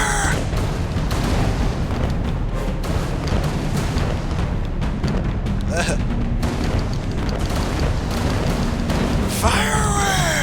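Repeated cannon blasts and booms fire off in a minigame of Alice Madness Returns, a dense, continuous barrage of loud explosions with brief whooshing sweeps near the end.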